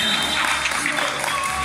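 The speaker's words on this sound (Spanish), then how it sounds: "todo el mundo ya está aplaudiendo por aquí a los dos equipos" Crowd applause for both teams at a lightning football final, Caqueza Leasing against Irmaos: a steady, dense wash of clapping from the stands with speech running underneath.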